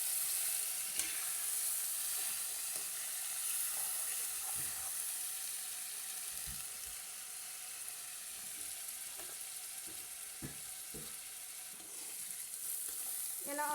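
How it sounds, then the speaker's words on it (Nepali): Raw onions fry in oil for chicken gravy while a spoon stirs them, making a continuous close sizzle broken by scattered scraping knocks against the pan. "यसलाई अझै एकछिन भुट्नुपर्ने हुन्छ किनभने यो प्याज काँचै छ"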